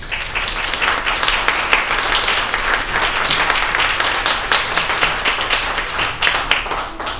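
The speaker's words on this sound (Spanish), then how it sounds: "para quien pido un caluroso aplauso" Steady, full applause rises from an audience at a book presentation and keeps an even intensity throughout.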